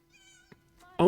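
An in-game cat in Elder Scrolls Online Morrowind gives a drawn-out tonal meow, then a short louder second meow after a brief pause.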